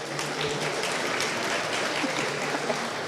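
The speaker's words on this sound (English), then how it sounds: "a big applause for Ashleigh for organizing this" Dense, continuous applause from a conference audience at a tech festival event, many hands clapping at once in a steady, even roar that holds for the full stretch.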